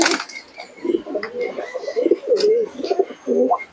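Domestic pigeons in a loft, including desi Kaldom birds, coo repeatedly in low, throaty rolling phrases, several overlapping close by, with faint chirps and soft rustling around them.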